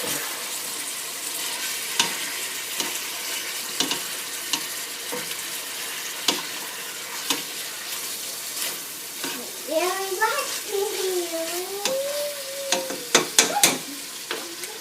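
Food sizzles steadily in a frying pan for a green chile dish, with repeated scraping stirs and clinks, while a voice comes in briefly near the end.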